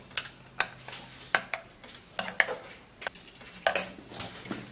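A spoon stirs mashed banana in a bowl, making repeated clinks and scrapes against the side in an irregular rhythm. The sound is close and moderately loud, with no voices.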